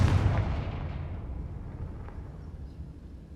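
A Confringo blasting spell explodes in the Hogwarts Legacy video game, opening with a loud, booming burst that rolls into a long, rumbling decay fading over several seconds, with no voices.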